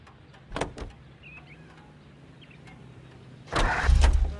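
A car in a PS4 video game gives a couple of brief clicks and clunks, then its engine cranks and catches into a loud, low running rumble near the end, with no talking.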